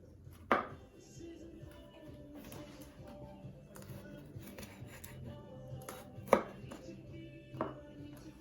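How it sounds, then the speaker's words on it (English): A knife chops garlic finely on a board while cooking wild mushroom pasta, with a few sharp isolated strikes standing out over a faint background hum. "with the garlic, I like to chop it nice and fine"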